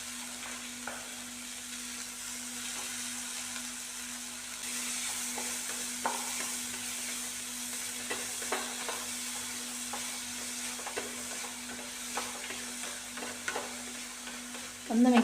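Onion stalks with salt stir-fry in a pan, giving a steady, quiet sizzle. Occasional scrapes and stirring clinks break through a faint constant hum, with no talk.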